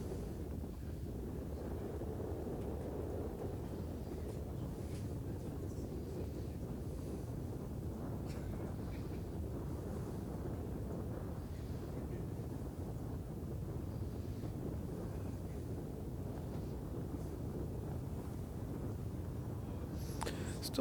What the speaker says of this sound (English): Still pretty windy out.